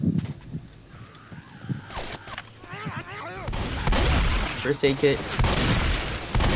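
Rapid video-game gunfire with shotgun blasts as a player shoots out question mark blocks, loud bursts and booms under frequent talk.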